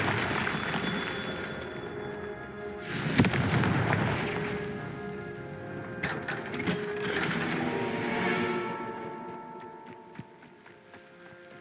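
Confringo fire spell in the video game Hogwarts Legacy, bursts of crackling blasts and whooshes with a sharp impact around the middle and more bursts later, layered over game ambience and music.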